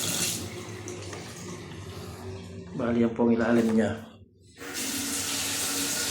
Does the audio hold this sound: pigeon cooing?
no